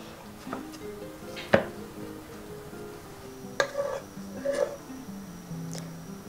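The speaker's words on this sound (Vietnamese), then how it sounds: "Bây giờ thì mình sẽ cắt hạt lựu cho quả cà chua nha." A knife dices peeled tomatoes on a cutting board, giving a few sharp, sparse knocks against the board with a quiet background between cuts.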